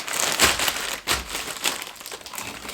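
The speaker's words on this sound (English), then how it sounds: "I'm using all the bags of the pellets that we use. I'm cutting them up." Plastic pellet bags being cut up, giving a continuous crinkling, rustling crackle of thin plastic close by, with uneven bursts and no speech.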